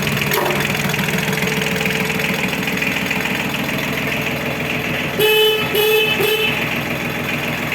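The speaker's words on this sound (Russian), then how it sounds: "Работает сигнал." A Yanmar AF15 mini tractor's horn sounds in three short bursts near the end, over the steady rumble of its idling engine.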